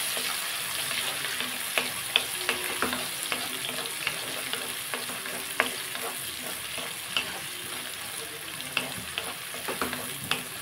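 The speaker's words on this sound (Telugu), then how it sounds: "బాగా వేగుతున్నాయి కదండి. ఆనియన్స్ కూడా మనం వేసేసుకున్నాం." Onions fry for gongura curry in a pan, giving a steady close sizzle broken by scattered stirring clicks and scrapes, with no talk.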